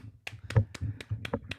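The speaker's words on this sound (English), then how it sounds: "I'm clapping, Joy. I don't know if you can hear me." Hands clapping during a long Tetris charity stream, a quick steady run of about eight claps over a low background hum, close and moderately loud.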